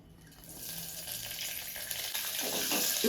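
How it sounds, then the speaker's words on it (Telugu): Green chilies and curry leaves dropped into hot tempering oil, seasoned with asafoetida and dried chili, give a steady bright sizzle and crackle that swells louder toward the end, with no talk. "1-2 పచ్చిమిర్చి, కొంచెం కరివేపాకు వేస్తున్నాను."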